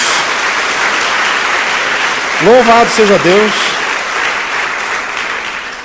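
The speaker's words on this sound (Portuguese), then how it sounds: "Dê uma salva de palmas a Jesus." A church congregation applauds in a steady wash of clapping, loud and continuous, while a voice briefly speaks over it midway.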